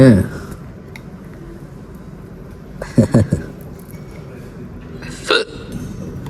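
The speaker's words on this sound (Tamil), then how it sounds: "விக்கல் போக மாட்டேது ப்ரோ எனக்கு." A person hiccups in sharp, abrupt bursts, one near the start and a couple more a few seconds apart, heard close among background noise and casual talk.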